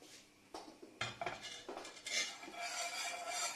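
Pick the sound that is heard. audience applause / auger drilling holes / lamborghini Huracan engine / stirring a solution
stirring a solution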